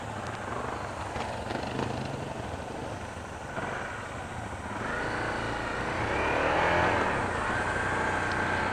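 A Honda CRF 230F dirt bike engine passes on a steep trail, a raspy rising motor note that swells closer and then fades, heard over rumbling wind and riding noise.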